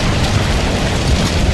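Fire and falling debris in a story video game, a loud, steady roar of crackling flames mixed with rumbling, clattering rubble, with no pauses and no voices.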